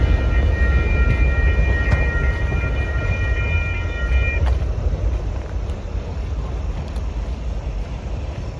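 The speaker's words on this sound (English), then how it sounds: "the train is now lumbering through Lake Junction at low speed" A freight train lumbers at low speed through Lake Junction in northern New Jersey, a steady loud rumble of rolling cars with faint metallic squeals and occasional clanks, continuous throughout with no voices.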